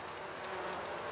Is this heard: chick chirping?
no